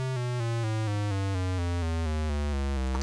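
A miniature synthesizer voice, pitch-quantized by a Disting EX module, steps through a descending sequence of buzzy, harmonically rich sustained tones, about a dozen evenly spaced notes played continuously and alone.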